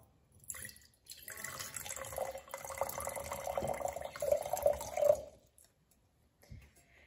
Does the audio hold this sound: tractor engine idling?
no